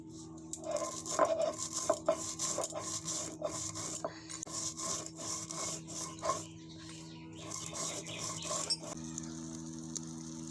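Spices being ground by hand on a stone grinding slab (shil) for a wood apple chutney: a steady, close, rasping scrape repeated in uneven back-and-forth strokes, over a low background hum.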